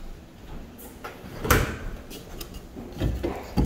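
A loose, dirty drawer in a bungalow bedroom or bathroom knocks as it is pushed, with one sharp thump near the middle and softer clunks and rattles toward the end, fairly close with quiet room tone and no talk.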